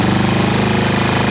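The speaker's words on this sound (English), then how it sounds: "I can already hear the four-stroke" A primed Magnum XL 15cc four-stroke model airplane engine runs loud and close, a steady rapid pulsing drone with no break.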